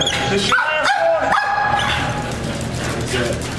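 A police dog under a truck gives sharp barks and high, rising whimpers in a short burst before settling, close and loud, while people nearby talk.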